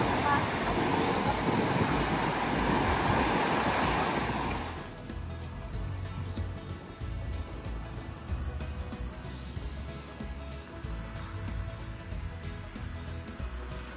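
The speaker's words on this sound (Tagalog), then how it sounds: "Lakas ng hangin" Strong wind buffets outdoors during an Obon holiday outing in Japan, a loud rushing roar that eases after a few seconds into steadier gusty noise, with no voice over it.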